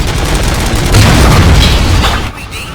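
A loud, booming burst of gunfire and explosions in the video game RoboCop: Rogue City rumbles for a couple of seconds, then fades.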